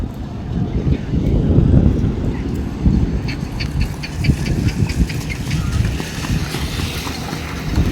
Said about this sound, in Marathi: या स्कूटर्स काही थांबत नाहीत एकामागोमाग एक चाललेले आहेत